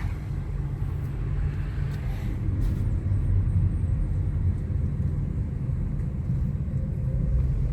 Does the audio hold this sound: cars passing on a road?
yes